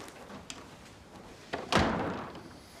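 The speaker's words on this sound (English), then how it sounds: "Close the door up." A door swings shut with a solid thud in a quiet indoor room, preceded by a faint knock or bump; a single close, fairly loud slam that fades quickly.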